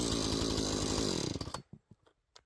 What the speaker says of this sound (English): a group of workers wearing protective gear and helmets were using steel chainsaws to cut into the trunk of a large diameter tree